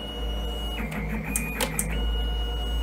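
An automatic cable insulation stripping machine runs with a steady electric hum, broken by a few short whirring and clicking bursts as it works, close and moderately loud.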